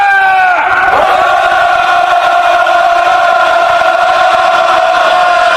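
A large crowd at a candlelight protest rally over Korea Exchange Bank and Lone Star lets out a loud, sustained collective roar, a drawn-out shouted tone that holds steadily from start to finish.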